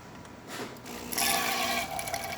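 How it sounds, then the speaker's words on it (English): Hot water streams from a DeLonghi espresso machine with a hissing, gurgling pour that swells louder partway through and keeps running steadily. "nice steady stream of hot water, no leaks"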